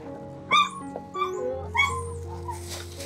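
A dog whimpers and whines in several high, wavering bursts at close range, with faint background room noise and no clear talking.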